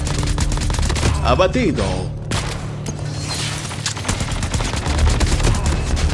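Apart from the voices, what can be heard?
gunfire from a rifle in a video game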